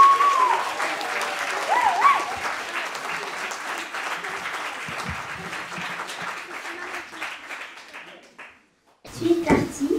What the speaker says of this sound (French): On l'applaudit jusqu'à ce qu'elle arrive.